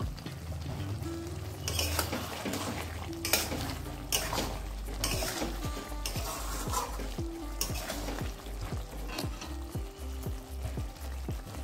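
Spoon scraping and stirring egg curry in a hot pan, steady sizzle underneath with a run of rhythmic metallic scrapes and taps against the pan.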